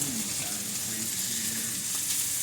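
Italian sausage browns in a pot, giving a short, even, close sizzle with faint spatter and no talking.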